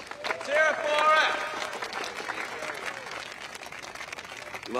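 Crowd cheering and clapping at a lively gathering, a short swell of applause with whoops and shouts, voices calling out over the noise.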